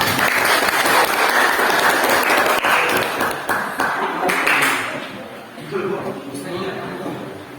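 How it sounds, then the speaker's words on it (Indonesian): A classroom of students claps for a top-scoring pupil, a dense burst of hand claps filling the first five seconds, then tapering into scattered claps and chatter as voices talk over it. "Ini yang nilainya tertinggi, beri tepuk tangan untuk Marisa."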